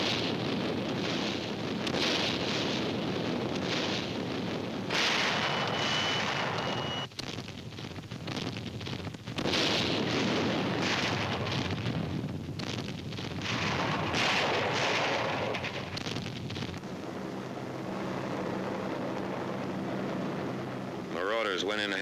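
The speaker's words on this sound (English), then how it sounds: "The naval bombardment continues." Naval bombardment off Normandy at daybreak fills the air with continuous heavy artillery fire, a dense rumbling roar broken by deep booms, with a narrator's voice running over the din.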